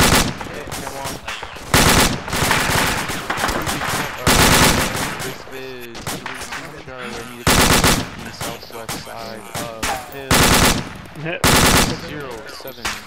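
Suppressive gunfire in a firefight at AP Spartan: loud bursts of automatic fire crack out repeatedly at close range, interleaved with shouted radio-style talk between the volleys.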